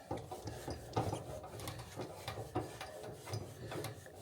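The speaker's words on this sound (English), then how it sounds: "Okay, we're screwing in." A 1 lb Fuel Keg propane tank being threaded onto a fitting, giving close, quiet rasping and ratcheting scrapes in short repeated turns.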